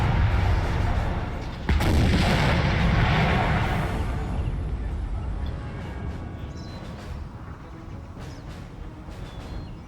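Artillery fires in the video game Napoleon Total War 3, with one sharp blast opening a dense roar of cannon fire that then thins into a lingering, diminishing rumble with scattered distant pops.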